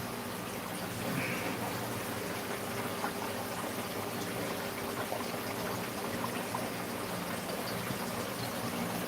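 Water runs steadily into a fish tank, making a constant, even rushing hiss that holds for the whole stretch without pauses or voices.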